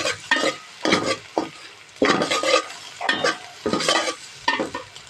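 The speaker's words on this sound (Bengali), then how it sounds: "এখন ডিমটাকে ভেজে উঠিয়ে নিব।" Egg frying in oil in a pan for chicken vegetable fried rice, with repeated bursts of stirring and scraping over a steady close sizzle, no talking.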